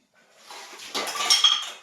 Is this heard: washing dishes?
yes